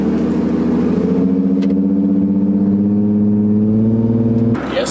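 Infiniti G35 car engine while driving, a loud close rumbling drone with rising harmonic tones as it pulls and revs, steady for several seconds before easing off at the end.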